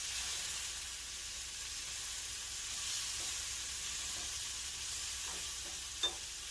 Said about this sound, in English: so you get a little bit more sizzling in the pot